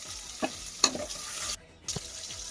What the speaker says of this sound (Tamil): ஒண்ணா போட்டு காய் எல்லாமே போட்டு நல்லா எண்ணெயிலேயே வணக்கணும்